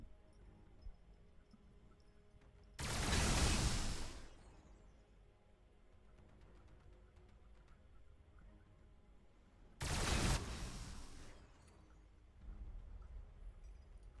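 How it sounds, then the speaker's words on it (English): Two loud broadband bursts of massed gunfire from a Warhammer 40,000: Battlesector battle, Blood Angels against Necrons, each lasting about a second, separated by a quieter stretch of ambient game noise. "They're all shooting the poor dreadnought."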